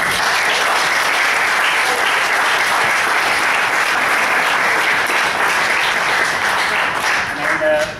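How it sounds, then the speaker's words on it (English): Sustained applause for youth sports teams of young kids, dense steady clapping from a crowd that fills the whole stretch at full loudness and eases only slightly near the end. "That was tremendous and deserves a round of applause."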